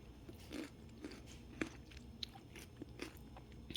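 Close, quiet crunching bites and chewing of leftover kale and pickled chicken radish, irregular crisp crunches spaced through the moment with soft mouth sounds, no talk.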